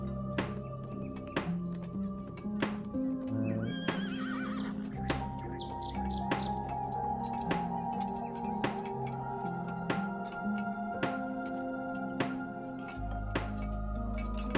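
In a video game, a horse neighs and whinnies against a busy backdrop of steady, rhythmic clicking hoof steps and clinking effects, heard quietly.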